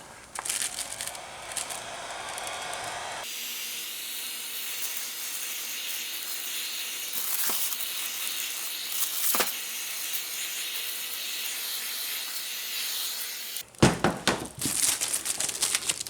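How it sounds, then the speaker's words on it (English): A heat gun blows a steady, loud hiss onto a sealed plastic bag. Crinkling starts at the beginning, then a sustained airy rush dominates, and sharp crumpling and rustling follow as the gun cuts off near the end. "Here's the heat gun."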